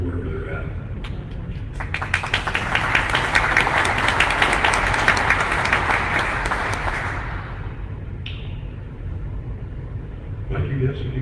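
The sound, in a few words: meeting audience applauding former directors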